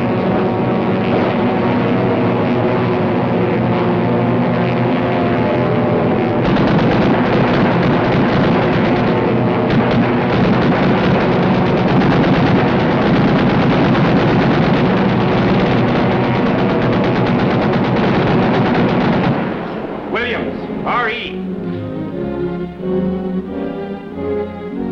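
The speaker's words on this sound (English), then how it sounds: "This is straight beam firing, and is the first step in air-to-air shooting." Aerial machine gun fire at a towed target in a 1943 training film, a dense continuous rattle over a steady aircraft engine drone for nearly twenty seconds, then the firing cuts out and the engine and rushing air continue.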